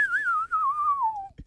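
A person whistles while inhaling, producing one sustained, wavering tone that slowly slides downward for over a second before stopping. The whistle is close and clear, followed by a brief soft noise.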